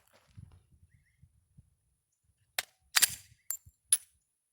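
A handgun slide racks sharply to clear a stovepipe malfunction with dummy rounds, giving a few loud metallic clacks in quick succession after soft handling rustles and small taps.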